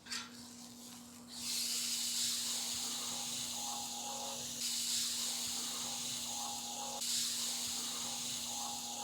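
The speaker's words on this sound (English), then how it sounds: "Our picanhas are going to town, sizzling up" Picanha sizzles on a Prokan Infinity Argentine XL grill, fat dripping through the grates onto the fire, making a steady broad hiss that swells in a few waves after a brief quiet start.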